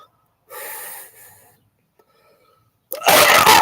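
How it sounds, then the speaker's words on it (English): A breathy, wheezing inhale builds up, followed after a pause by a sudden loud, forceful sneeze close by. "I'm going to sneeze."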